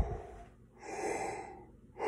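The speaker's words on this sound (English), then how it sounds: "every time I take that breath, I think of the word home as I'm taking the breath." A deep, slow breath drawn in before playing a low brass instrument, a soft airy inhale close to the microphone with no talking.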